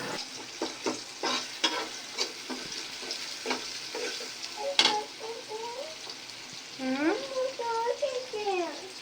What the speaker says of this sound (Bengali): তো এখন পেঁয়াজগুলো ভেজে নেওয়া হবে।